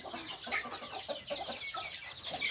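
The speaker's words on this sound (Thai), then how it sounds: "อันนี้คอกไก่" Native village chickens cluck and murmur close by in a coop, with a couple of sharper squawks rising above the steady chatter of the flock.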